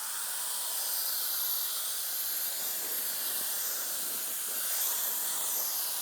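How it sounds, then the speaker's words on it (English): A vacuum tool running in blower mode clears away debris with a steady, airy hiss that holds constant and moderately quiet for several seconds, with no talk. "Now we can blow the rest of this junk away."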